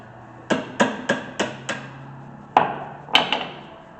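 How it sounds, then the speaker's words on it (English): Sharp hammer blows knocking a rear brake part loose on a 2015 Lexus NX200t, five quick strikes in a row followed by three more after a short pause, close and ringing. "Knock it with a hammer to get it somewhat loose."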